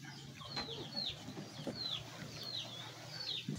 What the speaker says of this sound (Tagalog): may mga background music kami na mga manok